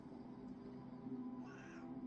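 A pet cat gives a soft, drawn-out meow, faint and close in a quiet indoor room.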